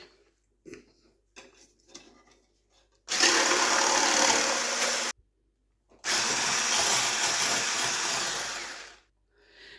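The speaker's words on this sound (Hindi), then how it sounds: "क्रीम को विप करेंगे" Electric hand mixer whipping double cream in a jug, two long loud steady whirring bursts of about two and three seconds separated by a brief pause, with quiet clinks beforehand.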